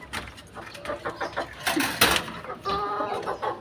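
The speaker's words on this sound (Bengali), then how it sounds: "মুরগিটাকে বের করে ফেলো।" A hen clucks in short repeated bursts close by at a home where it has just laid eggs, with brief overlapping sounds and soft background noise.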